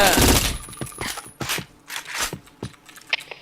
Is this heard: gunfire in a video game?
yes